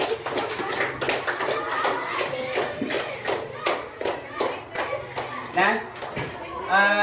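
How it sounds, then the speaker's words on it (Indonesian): A class of students applauds a classmate in a lesson: a run of quick, fairly close claps from several children, with a voice speaking briefly between them. "Kita kasih aplaus untuk temannya"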